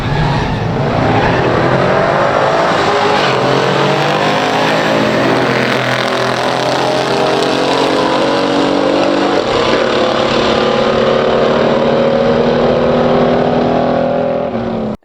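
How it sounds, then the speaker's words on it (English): A 1968 Hurst/Olds and a 1969 Chevelle SS race side by side down a drag strip, V8 engines roaring loud and close throughout, rising in pitch as they accelerate. "the Hurst Olds had a little bit of a shaky start, but it was able to catch up mid-track and take the win"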